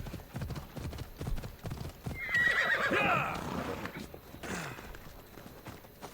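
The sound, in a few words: horse galloping and neighing in the video game Assassin's Creed Odyssey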